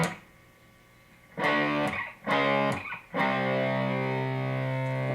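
A distorted electric guitar plays a riff: after a quiet start come three sharp chord stabs with short gaps, and the last one is left to ring out loud and sustained.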